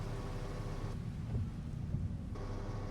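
Steady rain and rumbling thunder from the weather in Farming Simulator 25, a dense wash of rainfall with low rolling booms in the middle, heard alone without talk.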